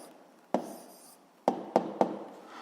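A pen writing down an answer on paper during a physics lesson, heard as four sharp close taps, each trailing into a short scratch, in a quiet room.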